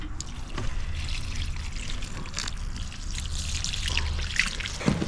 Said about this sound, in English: I was trying to get some interesting shots of water pouring on the plants.